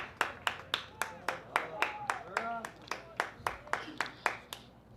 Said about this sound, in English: sitting right in front of us with the loud clapping going on